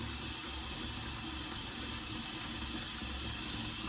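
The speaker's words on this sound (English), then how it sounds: "when you stick this in the sink, put some water in it immediately" Tap water runs into a kitchen sink in a steady, close, unbroken rush that fills the entire stretch, with no talking.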